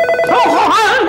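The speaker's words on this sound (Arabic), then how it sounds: "يا أبوي تليفون" A telephone rings loudly nearby in a brief burst of warbling tones.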